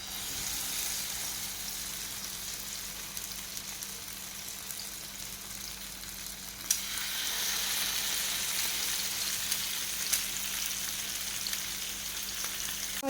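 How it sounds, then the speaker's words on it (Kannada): Mackerel fish sizzles steadily in hot coconut oil, a continuous close, even hiss of frying that briefly swells louder partway through, with no talking. "ಮೊದಲಿಗೆ ಸ್ವಲ್ಪ ಮೀನನ್ನು ಫ್ರೈ ಮಾಡ್ಕೊಳ್ಳೋಣ."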